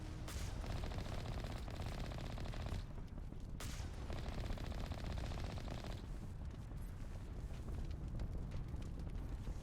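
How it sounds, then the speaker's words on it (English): Sustained video-game combat in Mass Effect-style play: rapid automatic gunfire and rocket blasts pound against shields, a loud continuous barrage with dense overlapping shots and brief lulls, no talking. "Meanwhile, the rockets are breaking my shields."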